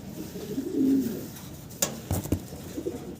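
German Beauty Homer pigeons, cream bar in colour, give a close, low throaty coo that swells for about a second, followed by a few sharp clicks and shuffles in a quiet pen.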